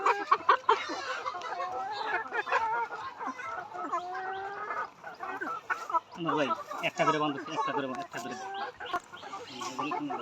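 Layer hens on a poultry farm cluck and squawk continuously, many birds close together, with someone talking over the flock.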